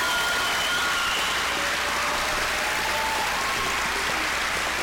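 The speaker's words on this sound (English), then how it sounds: "I want to give them a round of applause" A large audience at a gubernatorial campaign debate applauds continuously, a dense, steady wash of clapping with no pauses throughout.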